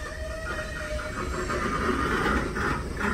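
Freight train boxcars roll past with a steady low rumble and rising metallic rattle and squeal, fairly loud and continuous, with no voices.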